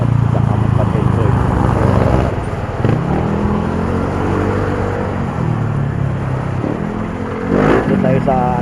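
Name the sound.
motorcycle engine on the way to a wash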